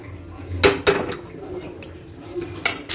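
Pasta tipped into a pan with a little oil gives a few sharp metallic clanks and scrapes at close range, with a faint low hiss between the knocks.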